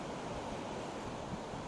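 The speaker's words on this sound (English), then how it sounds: "Look at the waves." Ocean waves wash continuously at a beach in Tallinn, Estonia, a broad, steady surf roar mixed with wind buffeting the microphone, with no voices.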